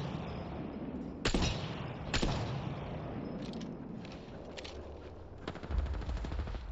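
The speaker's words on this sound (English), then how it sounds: "They're getting shot at from that compound." Video game gunfire in Apex Legends, a distant firefight at a compound: a few sharp automatic bursts and scattered shots crack out over a steady rumbling game background, with no talk.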